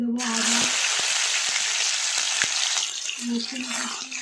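Chopped ginger sizzles steadily in hot oil in a pan, a dense, loud frying hiss that continues throughout, with a voice speaking over it at the start and end.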